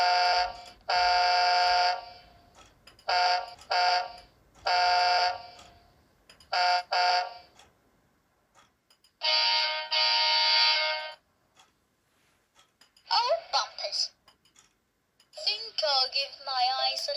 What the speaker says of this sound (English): he was able to source the actual horn sound used for Wilson in the show